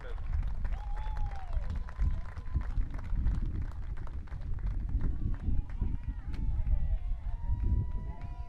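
A crowd at an outdoor state baseball tournament applauds the champions with scattered, sustained clapping. An announcer's voice and chatter run over the claps.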